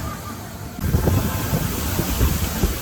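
Steady rushing wind noise buffets the microphone, with a low churning roar of a wind-blown waterfall at the Valhalla ride, Blackpool Pleasure Beach, beneath, starting abruptly and continuing without talk.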